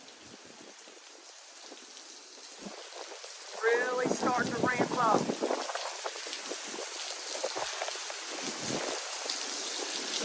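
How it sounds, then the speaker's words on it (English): Wind-driven rain lashing down during Hurricane Delta's landfall in Louisiana, a steady broadband wash that swells louder partway through, with someone talking over it. "You can see the rain blowing now."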